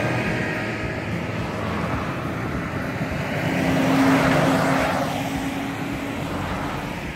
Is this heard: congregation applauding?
no